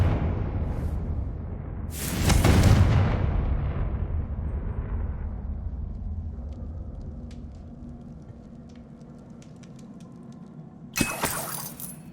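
Confringo blasting spell in the video game Hogwarts Legacy detonates with a loud, booming explosion and shattering debris that fades slowly, followed several seconds later by a second sharp crack and glassy clatter.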